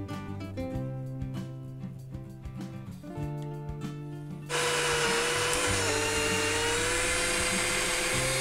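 A drill starts abruptly partway through and bores a hole in a hose, a loud steady high-pitched whir that runs to the end after a stretch of quieter tonal hum and clatter.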